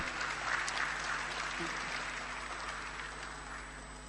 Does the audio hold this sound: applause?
yes